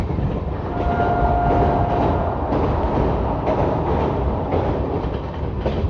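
The 12425 New Delhi–Jammu Tawi Rajdhani train, hauled by a WP7 locomotive, arriving at Ludhiana station: a loud, steady rumble of rolling wagons with rhythmic clatter and a brief horn-like tone early on.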